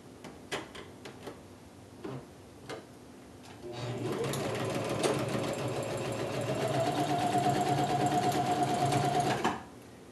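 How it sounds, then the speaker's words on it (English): A sewing machine runs a straight stitch along a seam of a kimono gown, starting after a few light clicks and humming steadily and close for about six seconds before stopping. "you'll just quickly go and do a straight stitch along that seam"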